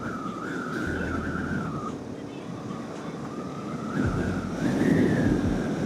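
Cold wind roars steadily over the microphone during a motorcycle ride on the Wayanad hairpin road, with a faint wavering engine tone beneath and the buffeting swelling louder near the end.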